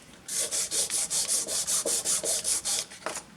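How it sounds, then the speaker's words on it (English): Rhythmic rasping of sandpaper on a block rubbing wood, about a dozen steady back-and-forth strokes, close and clear with no talking. "You always want to use a sanding block."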